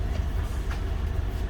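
Inside a moving Gajah Wong passenger train, a steady low rumble fills the carriage, with a constant hum and faint rolling noise continuing without a pause.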